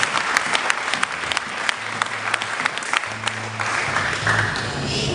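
A church congregation applauds steadily, with many hands clapping in a continuous rattle and a few sharper individual claps, while a low tone hums faintly underneath.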